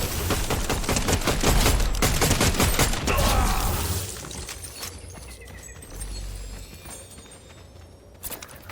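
Gunfire in Fortnite zero build mode: a dense, loud burst of rapid shots for about four seconds, then quieter game ambience with a few scattered sharp sounds.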